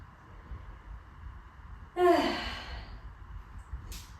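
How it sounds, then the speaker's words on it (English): A single breathy exhale with fluttering lips during a yoga session, a brief soft puff of air that rises suddenly and fades, heard alone in a quiet room. "Exhale, flutter the lips."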